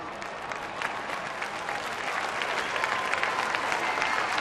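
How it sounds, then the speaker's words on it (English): A baseball crowd applauds and cheers a pitcher who has just given up a go-ahead home run, a steady, dense wash of clapping from a large stadium audience filling the whole stretch. "He has just given up a home run to give up the lead, but still gets a welcome from the crowd"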